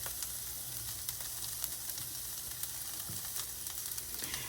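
Vegetables for a Philly cheesesteak sizzle steadily on a hot griddle, a dense, even hiss and crackle with faint scraping as they are moved around, no talking.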